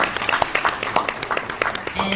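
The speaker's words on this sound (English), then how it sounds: "let's give David a round of applause" Audience clapping for David at a Republican women's club gubernatorial forum in Princess Anne, Virginia: a brisk round of individual hand claps from a small room crowd, close and fairly loud, with some talking mixed in.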